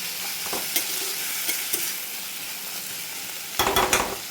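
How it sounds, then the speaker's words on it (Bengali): Chopped tomatoes are stirred into frying dried loitta fish: a constant sizzle runs beneath a few sharp spatula scrapes, ending in a louder burst of rapid stirring strokes. "সেই টমেটো কুচিগুলো এর মধ্যে দিয়ে দিলাম এবং ভালো মতো নাড়াচাড়া করে"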